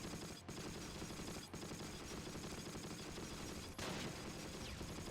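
Continuous gunfire from the war strategy game Close Combat: Wacht Am Rhein, a dense, unbroken rattle of shots at steady volume with a few sharper cracks standing out.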